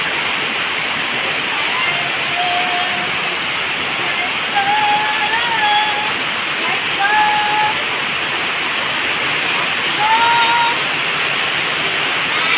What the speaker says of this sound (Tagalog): taas ng agos ng creek